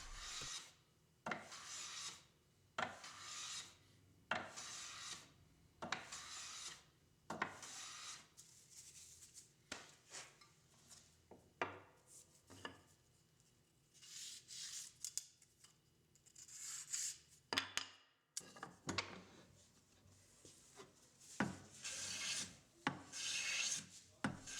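Hand tools, including a jointer plane, work white oak in long, repeated rasping strokes, each one a dry scrape followed by a short pause, close and fairly quiet, with no talking.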